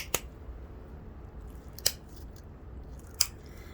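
Pressure flaking a flint blade, trimming and shaping its edge with three sharp, isolated ticks of flakes popping off, spaced well apart over a quiet background.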